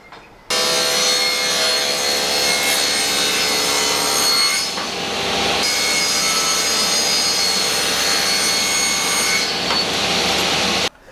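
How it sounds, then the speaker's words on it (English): A table saw bevel-cuts a wooden panel for a laser engraver enclosure, a loud continuous whining roar of blade through wood that dips briefly midway, then carries on until it stops abruptly. "I used my angle finder and bevel cut this on the table saw on both sides"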